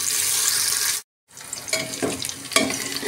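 Onions fry in a pan for a khichdi, a steady sizzle that cuts out briefly and then returns with stirring scrapes and bubbling crackles.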